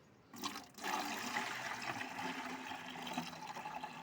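Fermented old rice water being poured out, a sustained splashing gush of liquid that starts abruptly and runs steadily to the end.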